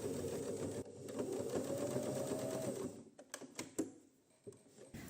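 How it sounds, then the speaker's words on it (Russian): Sewing machine running steadily for about three seconds as it topstitches a sleeve hem on knit fabric with an edge-guide presser foot, then stopping, followed by a few faint clicks and handling taps. "теперь закреплю их отделочной строчкой"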